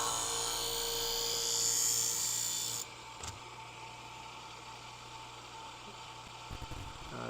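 Upholstery scissors are drawn across a sharpener in a loud, high grinding pass that cuts off abruptly partway through, followed by quiet room tone and a few faint handling clicks.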